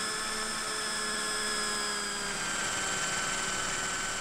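A Huey helicopter engine in the RealFlight 9.5 RC simulator game whines steadily with a constant high turbine tone and faint rotor hum, unchanging and alone.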